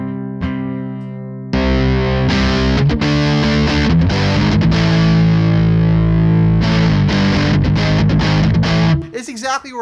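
An electric guitar played through a distortion pedal, tone knob set around noon, rings out a held distorted note and then heavy sustained chords with rhythmic strummed hits, loud and up close, with no talking.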